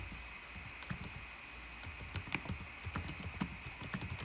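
Someone typing on a computer keyboard, with soft, quiet, irregular clicks over a steady background hum and no speech.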